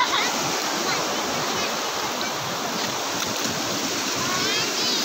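A three-year-old toddler swimming and diving, with steady, dense splashing and churning water close by that runs continuously without a break and carries no clear speech.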